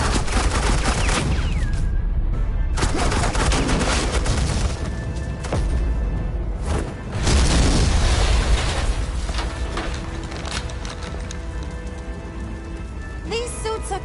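Dense, continuous gunfire rattles loudly and nearly unbroken in a Batman Telltale Series game scene, with sustained bursts and booming impacts filling the whole stretch and only brief dips.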